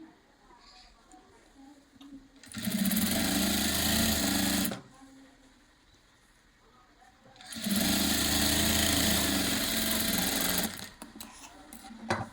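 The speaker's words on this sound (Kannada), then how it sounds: "ಈಗ ಇಲ್ಲಿಂದ ಇಲ್ಲಿವರೆಗೂ ನಾನು ಇದನ್ನು ಸ್ಟಿಚ್ಚನ್ನು ಹಾಕ್ಕೊತಾ ಇದ್ದೀನಿ" Sewing machine stitching a kurta collar, running in two steady bursts of about two and five seconds separated by a quiet pause, close and loud, with faint room noise between runs.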